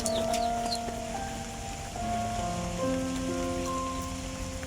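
Steady rain pours down outdoors on a family sheltering under cover, with a wet hammock nearby: a continuous, even patter of drops on surfaces, with faint tonal background sounds and no talking.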